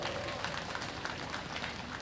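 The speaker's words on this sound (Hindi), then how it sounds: "इस बात पर जोरदार ताली बजा दिया" Crowd applause at a Victory Day celebration on an open general ground at Kangku, dense steady clapping from many hands, moderately distant, lasting the whole moment.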